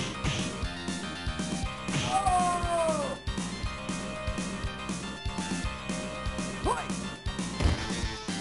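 A cat meows amid a busy, dense mix of background music and clattering, with a couple of rising, wavering cries standing out briefly over the steady clutter.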